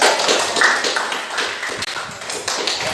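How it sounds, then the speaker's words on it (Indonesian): An audience in a university teacher-training class at Universitas Pattimura in Ambon applauds, a dense stretch of many hands clapping together, fairly loud and continuous for a few seconds. "Kita berikan aplaus"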